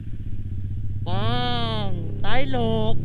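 A motorcycle engine idles close by, then revs up twice in rising whines, with a short bit of speech.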